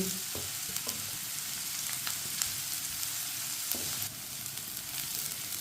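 Onions fry in a pan until lightly browned, giving a steady close crackling sizzle with a few brief stirring knocks and no voices.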